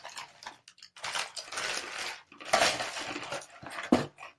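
A jalapeno-flavoured sprouted seed cracker is crunched between the teeth, producing loud, broadband bursts of crisp chewing close to the microphone in irregular rhythm, with no talking.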